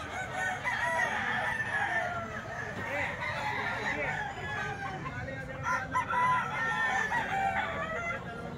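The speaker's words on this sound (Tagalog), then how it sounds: "Manok to ni Boss Rod mga boss." A rooster owned by Boss Rod crows repeatedly at moderate distance, mixed with clucking hens, faint voices and farmyard background.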